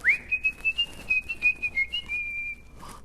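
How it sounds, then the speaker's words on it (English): A person whistles a lively tune alone and close by, in bright rising and falling phrases that end after about three seconds. "He whistled all the way there."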